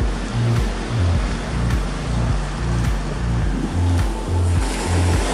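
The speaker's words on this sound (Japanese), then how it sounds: "海にはそれに逆らって綺麗な波がインサイド気味に割れてますね" Waves break on a Sea of Japan surf beach on a cold morning with a strong offshore wind, a rolling surf roar swelling and easing under a constant low wind rumble. No voices are heard.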